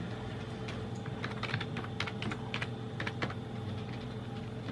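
Quick, uneven clicking of keys on a computer keyboard, tapped in short bursts at close range over a faint steady hum.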